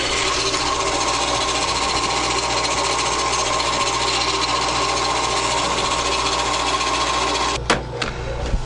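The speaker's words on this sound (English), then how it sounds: "Drilling at high speed here. We got high-speed drill bits" A high-speed drill bit bores steadily through a composite pen blank, giving a continuous loud whine for several seconds before it cuts off abruptly, followed by a few short clunks.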